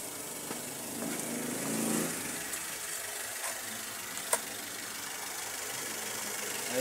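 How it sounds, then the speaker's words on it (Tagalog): Engine of a Toyota Avanza running at a steady idle after an oil filter housing seal repair, a continuous low mechanical hum with a faint recurring knock, recorded close with no talk. "Ayun, nakaandar yung makina."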